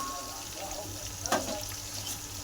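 Onions frying in a pan for biryani give a steady, moderate sizzle throughout, with a brief louder crackle and stir partway through.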